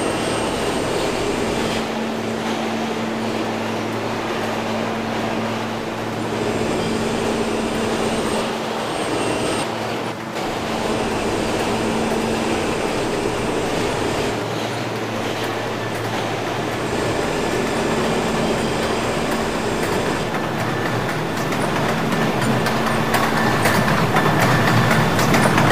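A subway train pulls into a night-time station on the PTA line near 86 St, its steady rumble and rail noise filling the whole stretch with shifting tones and no voices over it.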